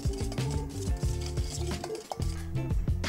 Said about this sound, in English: Let's start mixing.